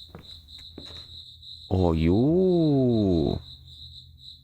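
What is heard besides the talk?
crickets chirping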